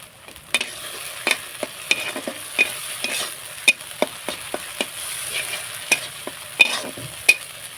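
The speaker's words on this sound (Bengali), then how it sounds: "মশলাগুলো এবারে ভালো করে আমি কষিয়ে নেব" Turmeric and chili paste with spices fries in a pan for a parshe fish curry, with a steady low sizzle broken by frequent sharp scrapes and taps of a stirring spoon at an uneven rhythm, close up.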